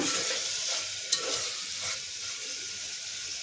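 Ridge gourd and tomato curry simmering uncovered in a pan, a close, steady sizzle and bubbling with a faint stir or scrape partway through.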